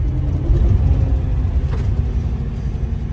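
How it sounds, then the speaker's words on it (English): A 1954 Ford Mainline with a three-on-the-tree manual gearbox rumbles steadily while driving, its engine note shifting slightly mid-clip as it downshifts. The drone is loud, low and close, with no talk over it. "See if we can downshift."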